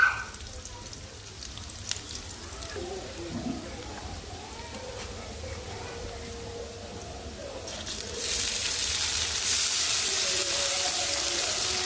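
Onions frying in oil in a pan for chicken curry, a steady hiss and crackle that grows louder and brighter partway through, with faint kitchen clatter and no talk.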